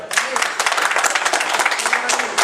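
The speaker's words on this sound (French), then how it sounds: "Applaudis la monsieur." Audience applause at a French-language conference, a lively burst of distinct claps from a modest crowd, close and uneven in rhythm, with a voice audible underneath.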